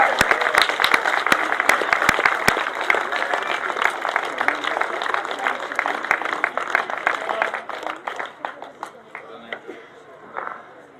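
A grasstrack racing crowd applauds the second-place finisher, sharp claps crackling near and far over a spoken announcement, the clapping thinning out toward the end.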